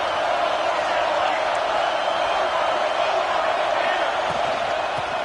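A college football stadium crowd roars steadily during a final possession, a broad sustained wash of cheering and noise with no breaks.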